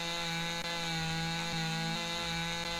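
A chainsaw in the video game Lumberjack's Dynasty cuts through a bush, a steady, buzzing engine drone that holds level with small dips as the chain bites.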